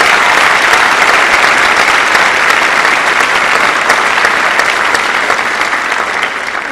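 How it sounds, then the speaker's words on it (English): Steady, loud applause from a school audience at a 2013 Neenah Joint School District Gold Tassel ceremony, sustained clapping throughout with no talking over it. "round of applause would be great"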